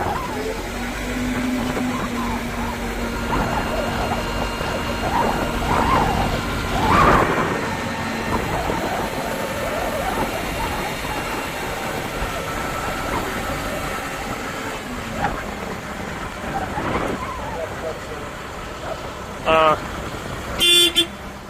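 A 2021 Caterpillar 910 wheel loader drives around, its engine rumbling steadily with a few short horn toots near the end, while people talk nearby.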